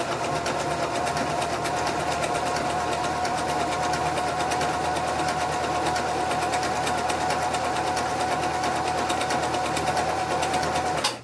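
A Kenmore 158 sewing machine sewing a straight stitch, a loud, smooth, continuous motor whir with rapid even needle ticking that holds steady for about eleven seconds before stopping abruptly.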